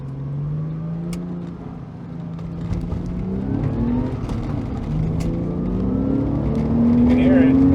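Porsche 996 911 Carrera 4S with its engine revving and climbing in pitch as it accelerates, a steady rising drone that grows louder toward the end, with people talking over it.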